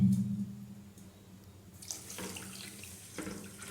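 Water runs from a tap into a pan for sugar syrup while making rasgulla, a steady faint trickle with a brief louder splash near the start.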